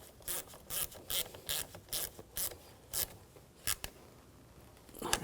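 A hand ratchet tightens the battery terminal clamp on a 2011-2018 Volkswagen Jetta, giving close, crisp bursts of rapid clicking in short repeated strokes with brief pauses between them.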